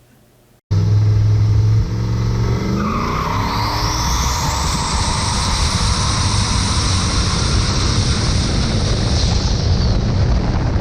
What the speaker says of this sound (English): then doing some pulls with the triple turbo setup